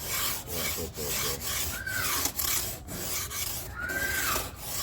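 A hand file rasps steadily against high-density material being shaped, with repeated close, harsh scraping strokes in an even back-and-forth rhythm and no voices.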